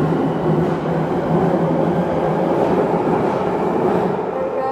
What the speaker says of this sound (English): There goes my third Jubilee line. 96021 service to Stratford. Leaving at Westminster.